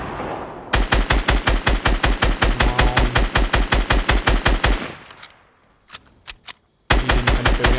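Rapid automatic gunfire from a Fortnite match rings out loud and close in a steady burst of evenly spaced shots, breaks briefly into a few scattered single shots, then resumes firing.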